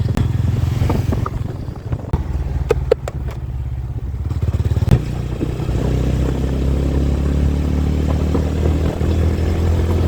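A motorcycle engine drones loudly and steadily up close, with wind buffeting and brief clattering as the bike rides along a road.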